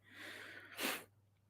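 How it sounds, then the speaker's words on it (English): A single sharp sneeze bursts out after a brief breathy buildup, close and fairly loud, then quiet. "I feel a sneeze coming on."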